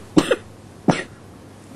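A person with a flu coughs twice, close and fairly loud, a quick double cough followed after a pause by a single harsher one, with no talk.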